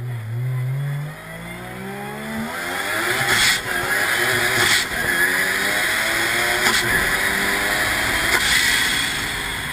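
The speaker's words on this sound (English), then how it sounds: "I found a YouTube video of this car driving down the street, and it sounds insane." An 800-hp supercar with a sequential five-speed transaxle and a T88 turbo charges down a street, its engine rising through several gears, each shift marked by a sharp crack, loud and close.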